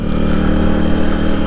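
A Suzuki DR200 motorcycle engine hums at a steady mid pitch during a downshift on the highway, loud and continuous with no clear rev spike.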